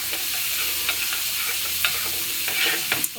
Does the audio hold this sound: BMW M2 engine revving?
no